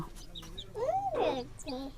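A chicken clucks a few times up close, fairly quiet, with soft background noise.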